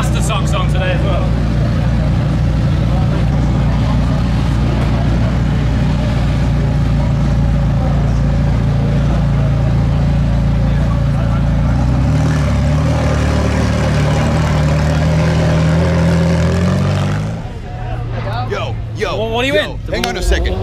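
McLaren 720S sports car engine while driving on tarmac, a steady loud drone and road roar throughout that thins out near the end, with people talking over it.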